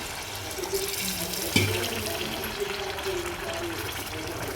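Water is poured into a pan of simmering paneer curry, a quiet running splash with one brief knock partway through and a voice murmuring faintly underneath.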